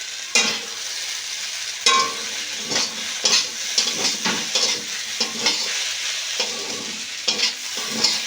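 Sabudana and egg breakfast being stirred in a pan: repeated scraping strokes of a spatula against the metal, each with a brief clatter, over a continuous close sizzle of frying.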